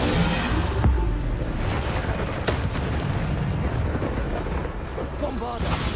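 Bombarda explosion spells blast repeatedly during Hogwarts Legacy combat, heavy booming bursts over constant rumbling battle noise, with a voice speaking over the action.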